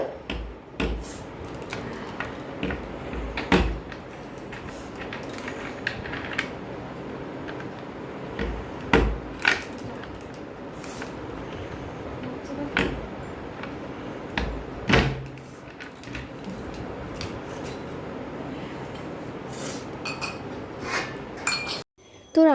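Heavy bowls handled in a home kitchen, clinking and knocking against each other and other dishes in scattered sharp clatters, close and fairly loud over a steady background rumble, with no talking.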